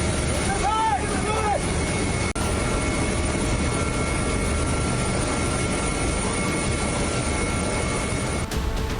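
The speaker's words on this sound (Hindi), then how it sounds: "नेपाल में मौजूदा त्रासदी के दौरान भी सेना के हेलीकॉप्टर दुर्गम जगहों से लोगों का रेस्क्यू कर रहे हैं।" An army helicopter flies over flood-hit mountain terrain in Nepal, a loud steady rotor and engine roar that holds for the whole span, with a brief burst of other tones near the start.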